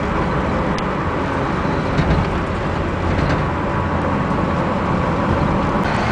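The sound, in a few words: ute with four-wheel drive tyres driving on main road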